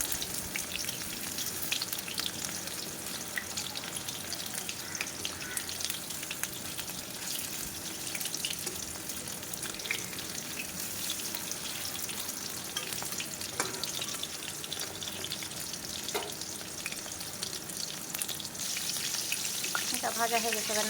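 Meat pieces fry in hot oil, a steady close sizzle and crackle running unbroken, with occasional stirring scrapes and a brief splash-like burst near the end.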